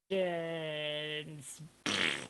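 A voice imitates a fart, a long buzzing, blubbering raspberry held for over a second, then a short breathy burst, during an online improv comedy match.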